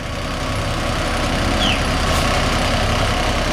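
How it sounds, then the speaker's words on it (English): A truck engine idles steadily across the street while a neighbor works on it, a continuous low rumble with a brief faint squeal midway and no voices. "Across the street, my neighbor Alexis is working on his truck."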